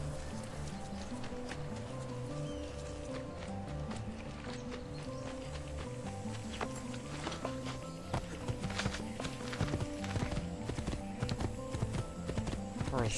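Horse hooves clip-clop steadily in Assassin's Creed 2, a continuous trotting rhythm over a bed of game music, with an occasional faint whinny.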